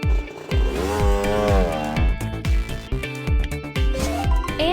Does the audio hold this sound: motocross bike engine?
yes